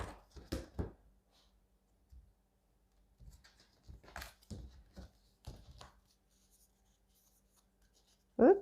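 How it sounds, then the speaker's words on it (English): Tarot cards are shuffled and handled on a table, giving quiet, scattered taps and riffling flicks in short clusters with pauses between, close and soft, ending on a louder knock. "I shuffle these and get them"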